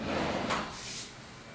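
A soft-close kitchen drawer with braked runners slides shut during an apartment renovation, a smooth close sliding whoosh that eases into a gentle stop with no hard bang.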